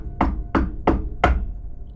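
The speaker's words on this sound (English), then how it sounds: "I knocked again." Four firm knocks on a professor's office door, evenly spaced about a third of a second apart, close and clear with no voices.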